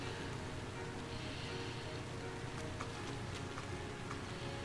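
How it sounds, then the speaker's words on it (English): Steady rain in the role-playing video game The Legend of Heroes: Trails of Cold Steel, a dense, even hiss of falling drops holding at the same level throughout, with no talking. "It's raining!"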